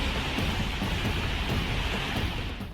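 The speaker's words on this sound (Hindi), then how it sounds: "बारिश के बाद झरने का बहाव इतना तेज हो गया कि इसकी आवाज दूर तक सुनाई दे रही थी।" Floodwater and a waterfall swollen by heavy rain near a temple at Mahadev Khoh in Dehri roar with a dense, loud, unbroken rushing wash, close and steady throughout.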